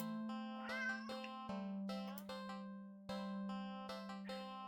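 A cat meows repeatedly in the horror game Do Not Take This Cat Home, giving a run of close, clear, drawn-out tonal meows with short gaps between them and no talking.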